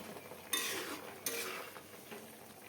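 A spatula scrapes and stirs cauliflower florets through spices in a pan, with two sharp scraping bursts followed by softer rustling against a faint background hiss.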